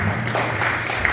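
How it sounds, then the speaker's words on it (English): Audience applause at a Bhagavad Gita discourse: a steady, continuous wash of clapping that holds evenly from start to finish with no voices over it. "Please give a round of applause to Pete."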